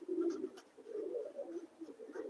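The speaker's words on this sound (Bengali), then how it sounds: "এই যে বন্ধুরা দেখুন এই যে পায়রাটা আমি বলেছিলাম" A racing pigeon coos softly and repeatedly in low, rolling murmurs, close by, with no speech over it.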